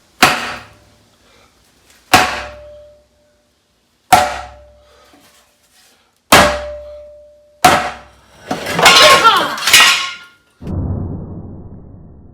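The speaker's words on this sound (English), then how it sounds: "We get a piece of wood, give it a couple of whacks with that." A piece of wood is struck against the rear gear case of a 1970 Dodge Challenger, giving sharp ringing knocks at a slow uneven pace that decay into silence, followed by a rougher scraping rattle and a brief hiss of dripping oil.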